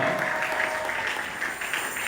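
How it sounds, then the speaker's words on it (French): A church congregation applauding for a visiting prophet, a steady wash of many hands clapping through the whole moment at an even level. "Si on peut acclamer pour lui."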